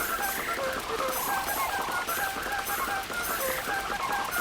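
Honking, goose-like bird squawks from a Yoshi video game creature after it is fed, repeated in quick bursts over bright game music, steady and loud throughout.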